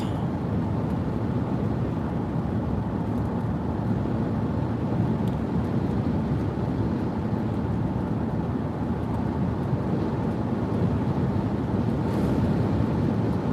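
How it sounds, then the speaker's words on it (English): Strong surface winds during a storm chase in Mississippi and Alabama roar in a steady, loud, broadband rush, with wind buffeting against the microphone throughout and no talking. "I mean, the surface winds are just insane right here."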